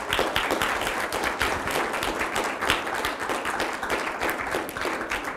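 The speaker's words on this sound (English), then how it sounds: "Big round of applause." Audience applause welcoming chef Marco Pierre White onstage at a gourmet symposium, steady dense clapping from many hands that holds evenly throughout with no talk over it.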